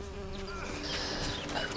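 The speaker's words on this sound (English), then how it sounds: "These bees." Bees in The Witcher 3 buzz in a steady, close drone that hovers and shifts slightly in pitch, with no talk over it.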